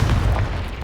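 A Confringo spell explodes in the Hogwarts Legacy video game, a single short, heavy booming blast with a rumbling low end that fills the whole fraction of a second.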